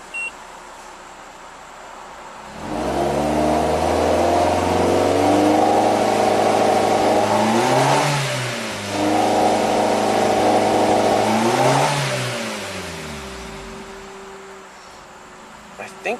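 A 2008 Suzuki SX4 engine restarts and idles close by, a steady mid-pitched hum that rises twice in short revs and then settles back down, with a faint beep at the start.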